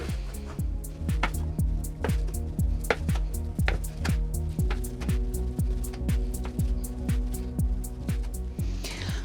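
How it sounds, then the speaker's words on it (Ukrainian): Rhythmic knife strokes slice cooked chicken against a cutting board, a steady series of close, crisp taps repeating throughout. "Курку я нарізаю на такі слайси."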